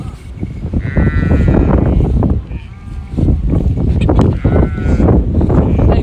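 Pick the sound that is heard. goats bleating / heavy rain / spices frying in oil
goats bleating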